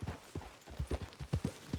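Horse hooves clip-clop in a steady, uneven rhythm during a ride in the Red Dead Redemption 2 video game, a dozen or so fairly close thuds over about two seconds with no talk.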